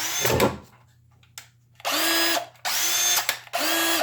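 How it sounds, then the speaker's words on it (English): A Makita LXT brushless cordless drill whirs at slow speed in three steady bursts with short pauses between them, preceded by a rattling clatter, close and loud. "when I'm trying to drill something and I want to go slow in a nice, steady, straight line"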